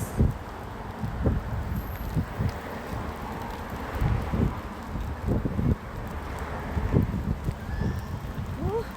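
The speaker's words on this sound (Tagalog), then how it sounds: "Lamig dito, grabe ang hangin" Gusty wind buffeting a nearby microphone, low rumbling thumps rising and falling in repeated bursts over a faint background hiss.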